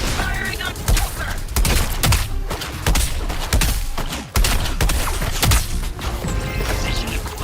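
Rapid bursts of gunfire aimed at the Joker in Suicide Squad: Kill the Justice League, dense and loud with repeated sharp shots and crashing impacts, layered over a busy game mix.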